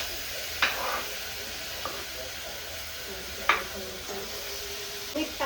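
Onions and tomatoes frying in a pan over a village-style fire, a steady soft sizzle with a few sharp clinks of a stirring spoon against the pan.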